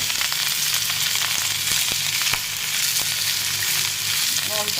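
Food shallow-fries in a little hot oil in a pan, a steady close sizzle with crackling pops and occasional scraping stirs, no one talking over it.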